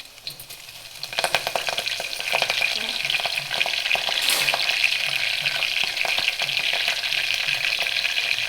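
Cumin, garlic and curry leaves hit hot oil and sizzle steadily, a bright crackling hiss swelling after a second and continuing close up with occasional stirring sounds.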